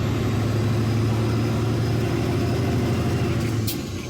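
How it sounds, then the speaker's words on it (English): A Caterpillar-engined truck pulls hard under load, its deep diesel drone steady and loud with a rising, throbbing tone as it works up through the gears, no talk over it. "Each time I grab another gear, I take the RPMs and go just a little bit faster than I did the last time."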